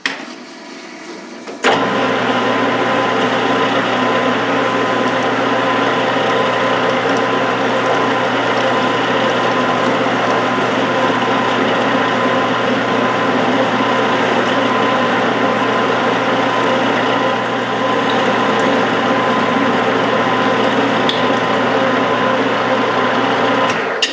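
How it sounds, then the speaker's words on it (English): A lathe parting tool cuts a relief groove into a barrel for a Yugoslav M48A Mauser being rebarreled in .308. A steady, close machine drone with a sustained whine runs evenly for over twenty seconds after a brief quiet start, with no talking. "move my parting tool over to the correct spot and go ahead and cut that relief"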